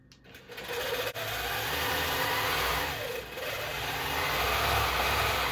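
A longarm quilting machine stitching a quilt-as-you-go quilted hug, its fast motor hum running steady and close after a brief start, with a slight dip and rise in pitch as the stitching moves, no talking.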